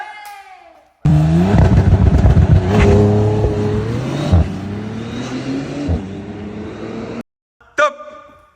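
A Bentley car engine revs hard and close, a loud, sustained roar with rising and falling pitch that cuts off abruptly, with brief voices before and after.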